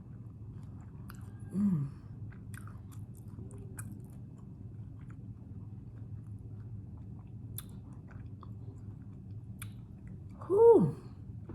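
Tacos topped with pickles are chewed close up in soft, steady, quiet bites, with a couple of brief louder vocal sounds of enjoyment and a murmur between mouthfuls.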